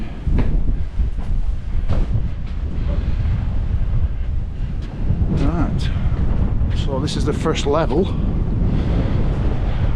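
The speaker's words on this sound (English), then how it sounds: "Wow, it's windy." Strong wind buffets the microphone in heavy gusts at a hilltop stone tower ledge while someone speaks briefly, with a few higher whistling tones near the end.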